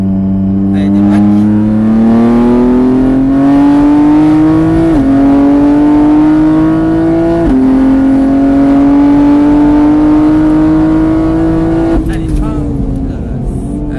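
A race car on the Mireval circuit accelerates hard through its gears, the engine note rising steadily with two quick shifts, loud and close, as an instructor calls out coaching over it.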